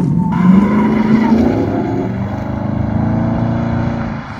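A Holden VF Commodore Clubsport accelerates hard, its supercharger giving a rising, tonal whine over the loud engine drone, heard from inside the car and sustained throughout.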